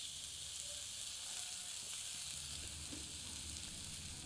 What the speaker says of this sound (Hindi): ग्रिल पैन में पनीर रखते हैं।